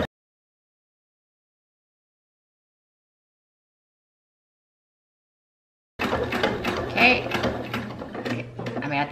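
A sewing machine stitches a thrifted curtain valance into an envelope pillow cover, starting abruptly after a long silence with a steady mechanical whir and rapid needle clatter, close and fairly loud.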